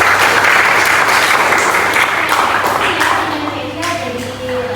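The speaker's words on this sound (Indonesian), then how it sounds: "Tepuk tangan untuk ini" Loud, dense applause from a group in a pharmacy classroom, many hands clapping steadily before tapering off slightly toward the end.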